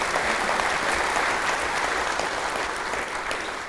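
Audience applause at a Columbia County community event, a broad, even wash of clapping from a large crowd that holds steady throughout and tapers slightly at the close.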